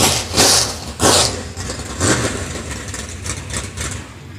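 A race car engine idles at Central Missouri Speedway after the race, loud and close, with a few blips of the throttle before settling into a rough, steady rumble.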